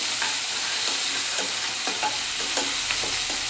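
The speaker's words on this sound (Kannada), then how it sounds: "ಸೊ ಇದನ್ನು ಕೂಡ ಚೆನ್ನಾಗಿ ಹಿಂಗೆ ಫ್ರೈ ಮಾಡ್ಕೊಂಡಾದ್ಮೇಲೆ" Ginger garlic paste fries in a pan with a continuous sizzling hiss, punctuated by repeated scraping stir strokes at an even pace, close and unaccompanied by speech.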